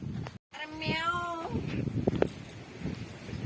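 Tiny kittens in an open farm field give a clear, close meow, followed by faint rustling and soft handling sounds with a bit of talk.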